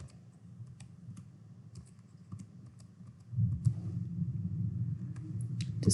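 Computer keyboard typing as entries go into tax software, quiet scattered key clicks over a soft background hum that grows a little louder halfway through.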